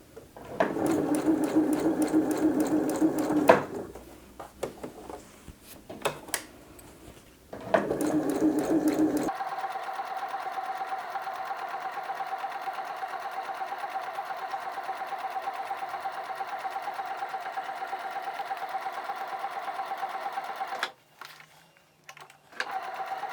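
A sewing machine stitches closed the lining of a fabric pencil case in bursts: short runs with pauses at first, then one long steady run, faint and close, with no speech.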